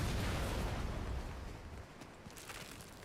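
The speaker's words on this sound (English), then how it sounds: "cannon." A cannon fires in the Lies of P video game, a loud, dense booming blast with rumbling noise that fills the clip and slowly fades.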